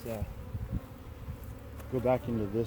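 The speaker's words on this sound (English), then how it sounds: "I'm going to shake out all these other frames so the bees will just go back into this" Honeybees from a swarm buzz in a dense, wavering drone close by around hive frames, the hum rising and falling as the insects move around.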